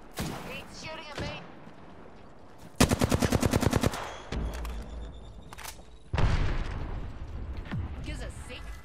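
Video game gunfire in Apex Legends: a rapid automatic burst of evenly spaced shots, loud and close, followed by a heavier boom and further scattered firing and impacts, with game voices heard around it.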